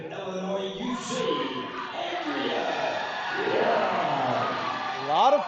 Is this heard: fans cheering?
yes